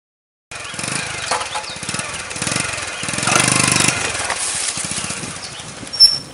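A motorcycle loaded with jerrycans of tonto, a Ugandan alcoholic brew, headed to market along narrow roads. The engine chugs steadily and close by, surging a little louder midway, with no talk.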